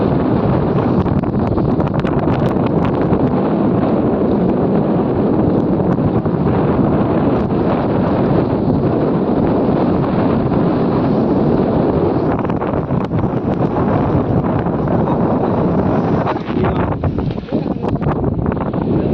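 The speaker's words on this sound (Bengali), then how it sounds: "ঢেউ হচ্ছে প্রচুর হারে" Strong wind and heavy waves buffet a boat at sea during fishing, a constant loud roar of gusts and rushing water with no letup.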